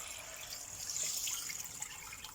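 Water pours steadily into a soup pot in a home kitchen, a continuous hissing, splashing stream heard close up with a brief swell in the middle and no talking.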